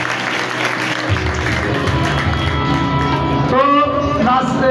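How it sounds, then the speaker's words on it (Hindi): Loud applause from a church congregation at a Catholic church anniversary celebration, dense steady clapping throughout with music and voices mixed in underneath. "आपकी भरपूर तालियों में"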